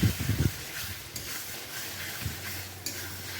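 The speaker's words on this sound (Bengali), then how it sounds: "এখন ছানাটা দিয়ে খুব সুন্দর করে নেড়ে ভাজতে হবে ধীরে ধীরে" Fresh chhena is stirred and fried slowly in a pan for a gravy, with a few quick scraping strokes at first, then a steady soft sizzle and an occasional clink.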